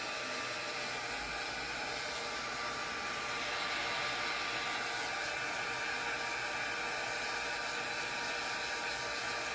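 A heat embossing gun runs in a continuous, even roar up close, melting black embossing powder and gold flakes, with no voices.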